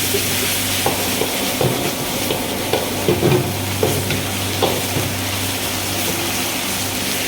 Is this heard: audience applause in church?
no